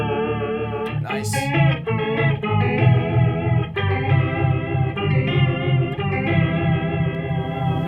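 Electric guitar run through a tri-chorus effect, its sustained notes pulsing and pumping in a swirling, organ-like wash, played alone and fairly loud.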